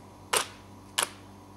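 Nikon D300s DSLR mirror and shutter mechanism clacking as it takes a live-view autofocus reading: two short crisp mechanical clicks about half a second apart, close and fairly quiet over faint hum.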